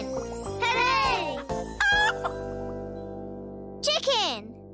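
Animated chicken clucks and squawks in a children's TV programme, several rising and falling calls over a steady musical bed with light jingles, and a voice speaking between them.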